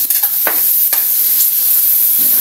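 Sautéed tomatoes sizzle in a hot pan, a loud, close, steady frying hiss with a few quick stirring scrapes near the start, and no talking.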